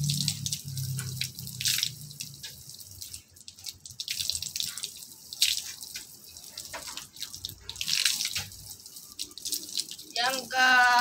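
Water runs and splashes from a tap during Islamic ablution (wudhu) as it is rinsed through the nose and blown out, with dripping and trickling at close range and a voice speaking over it.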